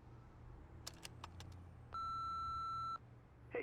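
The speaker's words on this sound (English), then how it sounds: "Oh, voicemail. A voicemail on an answering machine." Answering machine in a crime scene investigation game gives a single clear, steady electronic voicemail beep lasting about a second, preceded by a few short clicks and button taps over faint background hum.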